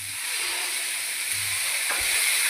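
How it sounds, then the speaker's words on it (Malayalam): Ground tomato puree poured into a hot pan of paneer masala, giving a steady frying sizzle and hiss with a faint soft splash near the end, no voices. "തക്കാളി അരച്ച് വെച്ചിട്ടുണ്ട് ഇതൊന്ന് ഒഴിച്ചു കൊടുക്കാം"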